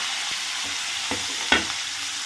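Ingredients for a garlic, coriander, pea and paneer dish dropped into hot oil in a pan, giving a steady broadband frying hiss with a few short clattering stirs and a sharper burst near the end, no talk.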